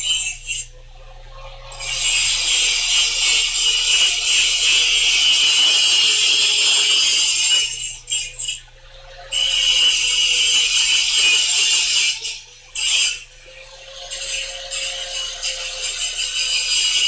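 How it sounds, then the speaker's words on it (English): An angle grinder grinds hard against a block in a workshop, loud and harsh, running in long sustained bursts with brief pauses between them. "He's grinding on a block."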